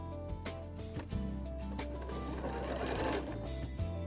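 Janome DC2010 sewing machine stitching at a brisk, even rhythm, close and clear, with a steady motor hum under rapid needle clicks that speed up slightly toward the end.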